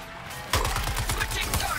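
Rapid bursts of gunfire from a video game shooter, a quick run of sharp, evenly spaced shots firing loudly after a brief quiet lead-in, with game effects layered around them.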